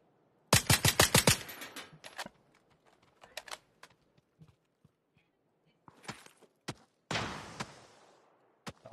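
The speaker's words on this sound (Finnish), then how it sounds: "Tosi tärkeä ampua renkaita." Video game gunfire as a player shoots at car tires: a rapid burst of close, loud shots, then scattered single shots and a second longer burst, with quiet gaps between.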